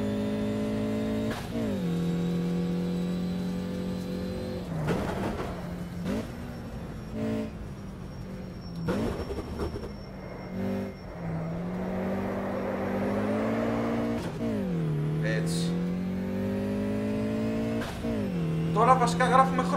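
Race car engines in a racing video game, a steady buzzing engine drone with repeated revs and pitch drops at gear shifts and braking, with someone talking over it throughout.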